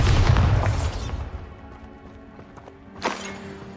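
A Bombarda spell explosion in the video game Hogwarts Legacy, with a loud booming burst at the start that rolls off into a quieter rumble, then a second sharp blast near the end.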